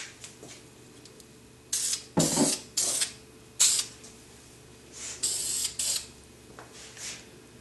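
Short bursts of spray paint hiss as a smooth coat goes onto repaired car body work, several separate sprays of varying length with quiet gaps between them.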